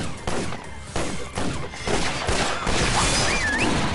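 Chaotic bursts and crashes from a ball exploding in the video game Awesomenauts, with dense, loud layered impacts and game effects running continuously over about four seconds.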